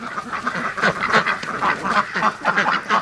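A flock of ducks quacks continuously and busily, overlapping calls close by, with no pauses across the stretch.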